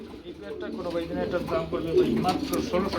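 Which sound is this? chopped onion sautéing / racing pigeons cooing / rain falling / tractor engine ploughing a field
racing pigeons cooing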